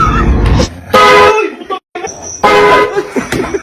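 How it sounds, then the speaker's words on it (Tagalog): A loud horn attached to a backpack honks twice in short blasts, with laughter and voices mixed around them close by. "yung backpack prank, yung may busina sa likod ng bag ko"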